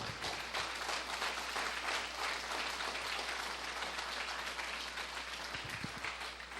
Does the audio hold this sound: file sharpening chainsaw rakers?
no